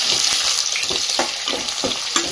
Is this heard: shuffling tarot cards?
no